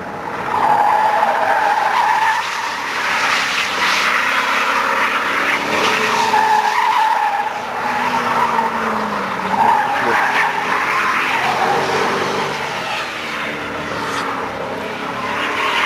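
A BMW E39 540i skids through a corner under full throttle, its tires squealing loudly and continuously for about fifteen seconds over the roaring engine, with voices heard faintly in the background.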